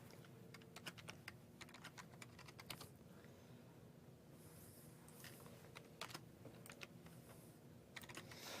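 Keys clicking on a computer keyboard as a password is typed to log in to a Windows 8 PC, quiet irregular taps in bursts with pauses, fairly close, no talking.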